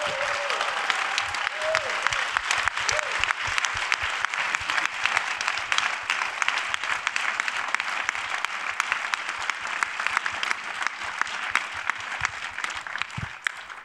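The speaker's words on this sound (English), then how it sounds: "Let's close with a thunderous round of applause for this beautiful panel" A conference audience at the IAC 2022 plenary applauds a next-generation panel on AI for space, giving a steady, dense roar of clapping that lasts throughout, with a brief voice at the very start.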